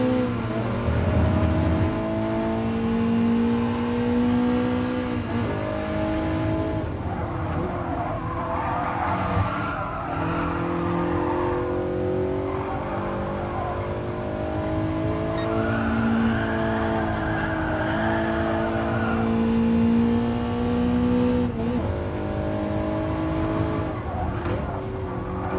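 A race car laps a track in the Gran Turismo Sport video game, its engine droning steadily with rising and falling pitch through gear changes and tire squeal in the corners.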